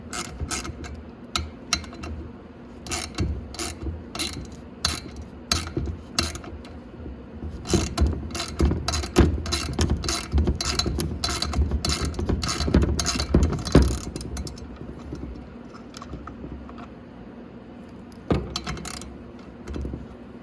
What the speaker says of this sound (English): And to remove that, just a 10 mil